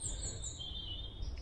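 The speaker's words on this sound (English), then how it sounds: "It's rather nice to hear the birds singing again." Birds chirping and singing at a distance in a woodland, thin high calls over a low background rumble.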